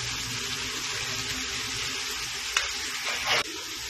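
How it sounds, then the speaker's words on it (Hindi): Onions frying in a pan for a desi-style cauliflower sabzi, a steady close sizzle and crackle that runs throughout, with a couple of brief scraping stir sounds near the end. "प्याज थोड़ा ब्राउन होने तक भूनेंगे इसको"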